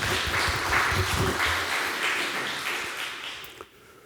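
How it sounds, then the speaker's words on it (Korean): A church congregation applauds during an Easter worship service, a dense, moderately distant clapping that thins out and tapers off near the end. "하나님 앞에 한번 영광의 박수 올려드립시다"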